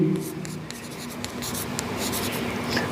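Marker or chalk strokes on a classroom board during a grammar lesson, a run of short scratchy squeaks and taps at irregular intervals, fairly close and faint.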